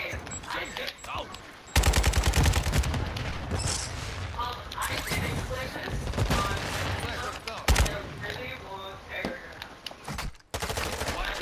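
Automatic gunfire in Call of Duty Modern Warfare 2 DMZ rattles in loud, dense fusillades across the whole stretch, with brief breaks and crashes, while players talk over it.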